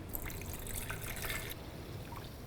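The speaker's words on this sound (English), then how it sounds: "what I'm going to do to actually create the bubbles is to use sparkling water. Pour that into the tank." Sparkling water is poured into a tank for bubble macro photography, producing a fizzing, trickling pour with bright splashy hiss that cuts off abruptly partway, leaving softer bubbling and drips.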